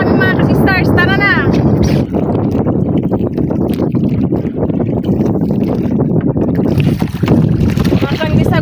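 A wooden paddle boat is rowed along the seaside shore, with continuous wind buffeting and water sloshing against the hull, rhythmic splashes throughout and voices talking over it.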